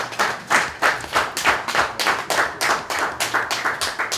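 Audience applause at a training launch event, rhythmic clapping in regular bursts about three per second, fairly close and steady with no voices on top.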